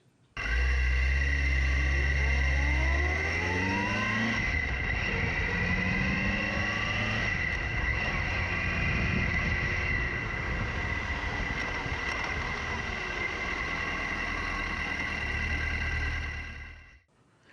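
Motorcycle engine running steadily close by while the rider shifts through the gears, with rev sweeps rising and falling between firm shifts and some wind rush. No one speaks.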